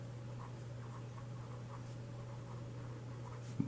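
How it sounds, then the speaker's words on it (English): A marker or chalk writing on a board during a grade 5 maths lesson, faint soft strokes over a steady low hum, ending with a small tap. "Let me write like this."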